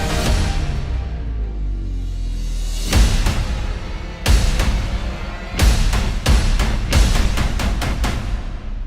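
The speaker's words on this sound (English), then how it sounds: "Okay, now we have the riser." A cinematic riser sound effect from an Audio Imperia sample library builds over several seconds. It is followed by a series of sharp, loud percussive hits that come faster toward the end, with no voices.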